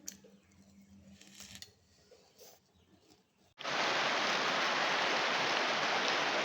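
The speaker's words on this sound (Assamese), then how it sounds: "এয়া চাওকচোন কিমান বৰষুণ দিছে আমাৰ ইয়াত দেই" Heavy rain pours down loud and steady from the midpoint on, a dense, continuous hiss after a quieter stretch of faint room noise and soft movement.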